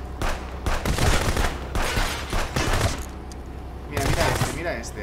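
Rapid bursts of gunfire aimed at a driver in the police video game Contraband Police, several loud clustered volleys across a few seconds with a voice talking between and over them.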